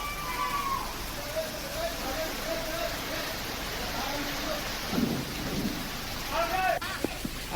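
Heavy monsoon rain pours steadily onto surfaces as thunder rumbles low and long. A sharp crack breaks in near the end, and a voice speaks intermittently over the storm.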